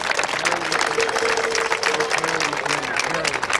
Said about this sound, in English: How about a big round of applause for him?